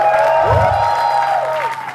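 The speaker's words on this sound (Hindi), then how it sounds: "तो दोस्तों प्लीज गिव इट अप, जोरदार तालियां" Loud audience applause and some cheering at a stand-up comedy roast show, a brief burst of clapping with music tones ringing over it before it tapers off.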